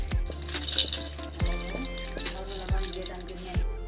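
Whole mustard seeds and dried red chillies frying in the leftover oil of a kadai used to fry fish give a close, crackling sizzle with intermittent clinks and spits, no talking.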